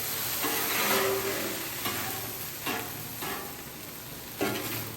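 Beef pasta mix sizzles steadily on a Blackstone flat-top griddle while a spatula scrapes it aside, a loud continuous fry with a few sharp scraping strokes.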